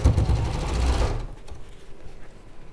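A sewing machine stitching a long seam on a winter mountain wall hanging whirs in a loud, steady, close run for about a second, then stops, leaving quiet room noise.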